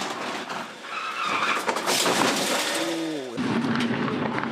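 Loud, roaring Supercars race car noise with a rasping skid and brief tire squeal as the car crashes, followed by a sustained engine drone.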